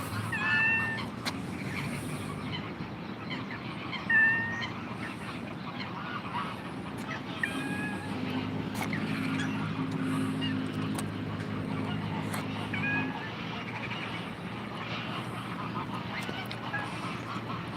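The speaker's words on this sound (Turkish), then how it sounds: "yeşil başlı ördek bu da arkadaşlar" Mallard ducks quack repeatedly in short bursts over a steady outdoor hum, with a low droning sound partway through and a louder call near the start.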